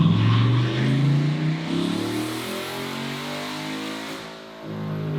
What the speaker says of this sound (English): We're getting ready to do the nitrous pull.